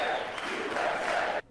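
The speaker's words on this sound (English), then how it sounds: "the largest applause of the night went to the gold medal-winning U.S." Loud, sustained crowd applause and cheering for the gold medal-winning U.S. men's hockey team in a large chamber, steady for over a second before cutting off abruptly.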